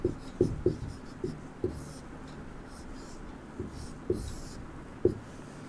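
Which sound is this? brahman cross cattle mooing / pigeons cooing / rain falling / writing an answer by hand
writing an answer by hand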